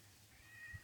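A single short, faint meow from a cat in a cemetery, rising briefly near the end against a quiet, hushed background.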